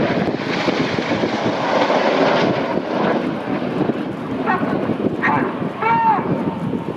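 Red Arrows jets roar through a left-hand display turn at the Royal International Air Tattoo 2017, a loud, broad engine rush with wind buffeting, swelling and easing as the formation swings past, while a voice talks over it.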